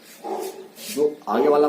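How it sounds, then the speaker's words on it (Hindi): A dog barks three times in quick succession somewhere in the room during a Hindi maths lesson, the short yelps overlapping with a man's speech. "कुत्ता भौंक रहा था"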